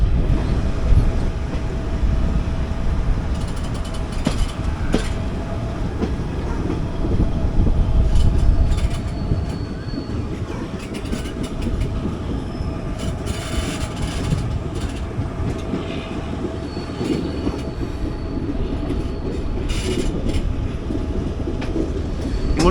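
A Hosur–Yesvantpur MEMU train runs on rails near Hosur station, with a continuous loud rumble, rhythmic clickety-clack of wheels over joints and intermittent metallic clanks and rattles.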